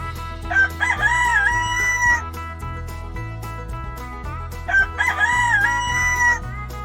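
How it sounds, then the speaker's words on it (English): A rooster crows twice, each long cock-a-doodle-doo loud and near, set over continuous background music. "Rooster."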